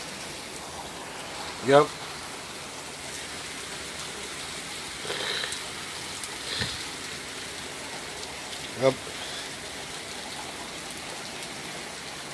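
Light rain falls outdoors as a steady, soft hiss, with a few brief sharp taps and a man's short spoken replies over it.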